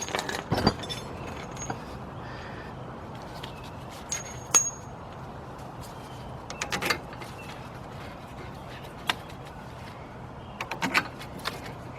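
Bolts are threaded back in during a front coil spring job on a 1999 Ford Expedition, with scattered metallic clinks and short ratcheting clicks over a low, steady background hum.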